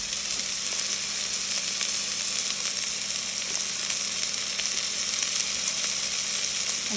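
Onions sizzling steadily in an Essen pan as the base for a frittata, a continuous bright frying hiss with faint low hum underneath, close and even throughout with no talk.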